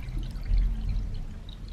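Water poured from a container into a pet's water bowl, a short, close, steady splashing pour lasting under two seconds with no talking.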